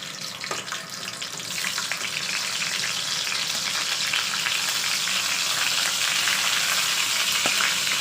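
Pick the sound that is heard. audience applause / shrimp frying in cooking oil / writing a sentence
shrimp frying in cooking oil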